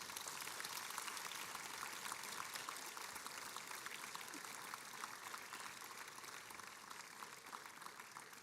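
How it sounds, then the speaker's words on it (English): A graduation ceremony audience applauds the graduates' families, a dense, continuous wash of many hands clapping at a distance that fades slightly over about eight seconds, with no voices over it. "give them a round of applause"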